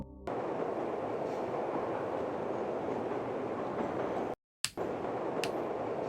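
Maintenance transport tunnel tram in The Journeyman Project: Pegasus Prime, a steady rumbling roll of a rail car heard close, then a sudden cut to silence and a short clank as motion resumes, no talk.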